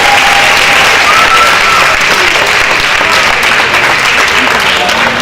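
A banquet audience claps loudly and steadily for academic award winners, a dense sustained round of applause with crowd noise and some voices mixed in.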